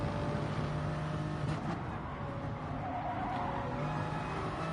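A racing car in a video game at the Sardegna Track B circuit, round 7 of the FIA Manufacturer's Cup, skids and scrubs its tires over a steady, loud engine roar that runs unbroken through the whole stretch.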